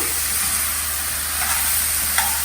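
Masala and potatoes stirred in a hot pan, a constant loud sizzling hiss with faint scraping of the spoon, no voices.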